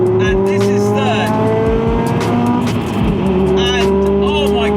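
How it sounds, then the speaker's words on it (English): A Subaru Impreza STI S203 engine revs hard, drops briefly on a quick shift into third, then pulls strongly again, loud and close inside the car with someone talking over it. "short gear throw to third, and this is third."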